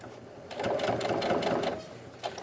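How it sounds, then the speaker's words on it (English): A sewing machine edge stitches a fabric mask with ties and pockets beside a seam, giving a close, steady whir for just over a second, followed by a short second burst of stitching. "I'm just going to do a little edge stitch here next to the seam"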